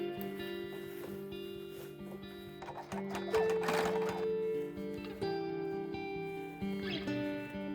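A sewing machine runs a few short bursts of securing stitches in the ditch of a bias tape seam, quick mechanical whirring and rhythmic ticking that starts, stops and restarts, close and moderately loud.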